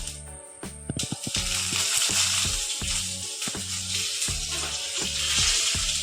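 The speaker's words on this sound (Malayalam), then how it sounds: "കടുക അതിൽ നിന്നിട്ട് നമുക്ക് ഇതിലേക്ക് കരിയേപ്പിലിടാം" Mustard seeds and curry leaves sizzle and crackle in hot oil for a brinjal curd curry, a loud steady frying hiss with repeated sharp popping bursts throughout, no talking.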